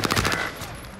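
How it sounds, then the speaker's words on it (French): Burst of rapid gunfire aimed at the player in the Modern Warfare video game on Rebirth Island, loud at first with quick repeated shots, then fading to a softer rumble within a second. "On me tire dessus."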